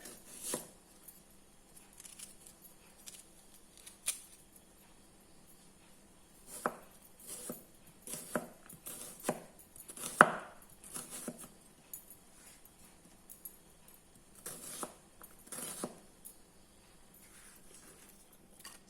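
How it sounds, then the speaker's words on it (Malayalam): Knife chopping onions and tomatoes on a board in scattered bursts of quick taps, close by and fairly quiet, with pauses in between. "ഈ സമയത്ത് നമുക്ക് സവാളയും തക്കാളിയും എല്ലാം അരിയാം."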